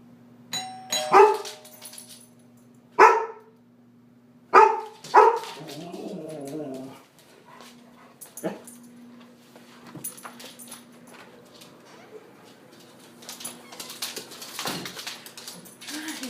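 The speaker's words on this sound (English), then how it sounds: "So we're going to try and train her to sit when the doorbell rings." A doorbell chimes three times in clear ding-dong tones, and then an excited golden retriever barks, with softer indoor rustling and movement after. The bell and barks sound close and loud at the start, and the room stays quieter afterward.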